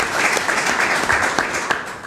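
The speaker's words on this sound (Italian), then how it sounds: "vorrei dare un applauso a questi grandi tifosi" A crowd applauds football fans at a Mazara Calcio club press event where a new coach is presented, a dense run of clapping from a roomful of people.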